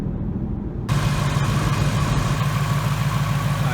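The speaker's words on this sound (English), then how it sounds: "here's a shot of the engine running" A supercharged Whipple-equipped 2018 Ford Mustang GT V8 idles close up, a steady rumbling idle with a low throbbing pulse that rises in level and brightness a moment after the start and then holds evenly.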